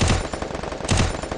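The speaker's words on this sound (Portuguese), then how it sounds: "um tiro da garagem" Gunfire in a video game: two rapid bursts of loud, close shots about a second apart, heard alone without talk.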